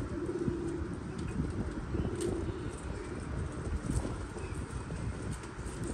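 Pigeons kept by a fancier, soft repeated cooing and rustling among the birds, steady and fairly near, with faint background sounds and no clear talk.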